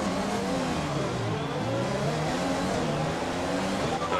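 F1 race cars pulling away from the grid at the start in F1 2020, a pack of high-revving engines whining and climbing in pitch together, steady and loud throughout.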